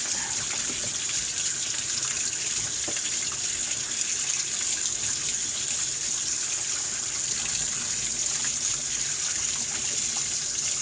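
A faucet runs steadily at close range while rinsing a model horse, a constant loud hiss of flowing water with no pauses or voices.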